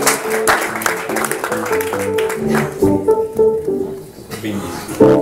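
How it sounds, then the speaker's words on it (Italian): An audience applauds the provincial education office at a stage show, the clapping mixed with voices and musical tones and fading partway through before swelling again near the end. "Quindi un applauso all'ufficio."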